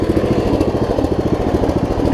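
A Briggs & Stratton Vanguard engine on a 30-year-old Murray riding mower idles loud and close, with a rough, slightly stumbling low chug running continuously.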